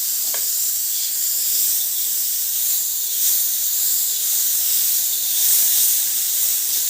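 Green cowpeas roast in oil on a hot griddle, giving off a soft, steady sizzle and hiss that runs without a break. It stays moderately close, and no one speaks.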